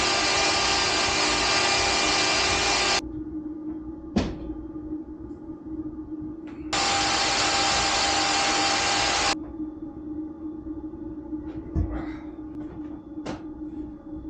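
Power tool cutting metal for a log hauler hitch, heard as two loud, sustained bursts of high-pitched whine of about three seconds each, separated by quieter idle stretches with a few sharp knocks.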